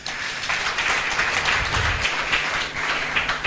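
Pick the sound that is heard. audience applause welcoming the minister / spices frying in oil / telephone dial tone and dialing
audience applause welcoming the minister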